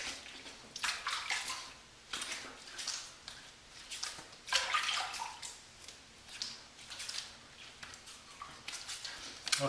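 Water splashes and trickles quietly as a face and neck are rinsed off after shaving, with soft irregular splashing and dripping at a low level and no talking.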